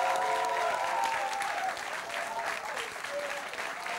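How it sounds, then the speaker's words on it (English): An audience claps at a national university quiz competition, a dense burst of applause that stays full for several seconds before easing slightly. "put your hands together and in a very almighty way, applaud the performance of Dixon Boateng Denchi and Ishmael Tego"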